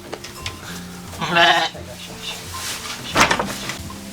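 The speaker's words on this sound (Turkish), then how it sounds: "Küçük kuzu firar etti." A lamb bleats twice in a snowy winter village, a short wavering cry followed by a second one a moment later, close by amid light rustling and background voices.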